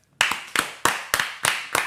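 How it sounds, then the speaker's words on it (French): Six sharp, evenly spaced hand claps ring out close and loud in a slow, deliberate rhythm during a podcast recording, each one decaying briefly before the next. "Hey, ça applaudit à soir."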